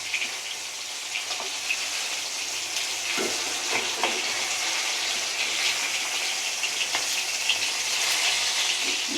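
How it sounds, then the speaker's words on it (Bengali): Fish frying in a wok, a continuous dense sizzle of hot oil with scattered small pops and crackles, close and even in level. "ওই কড়ায় মাছ ভাজা কে যাবে না।"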